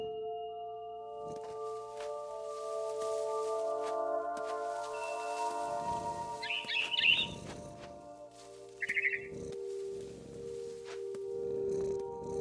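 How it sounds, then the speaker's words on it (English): A barn swallow chirps outside a window in the game What Remains of Edith Finch, two brief bright bursts of twittering over a low sustained musical drone, with soft footstep-like thumps nearby. "Then I heard chirping outside my window."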